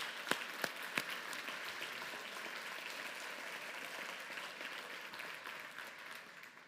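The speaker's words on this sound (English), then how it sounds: "Let's give a big round of applause for progress." An audience at a microbiome research charity event applauds, a dense, steady wash of clapping from many hands that carries on for several seconds before slowly tapering off.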